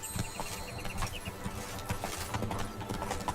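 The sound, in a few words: horse hooves clip-clopping while riding in video game The Witcher 3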